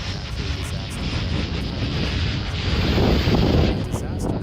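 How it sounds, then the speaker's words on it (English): Heavy wind from a natural disaster storm roars steadily as broadband noise, buffeting the microphone, loud and continuous with a slight swell near the end and no voices. "More heavy winds."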